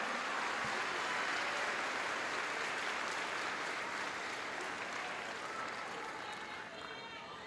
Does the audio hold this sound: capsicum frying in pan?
no